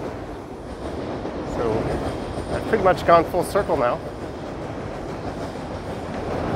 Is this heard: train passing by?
yes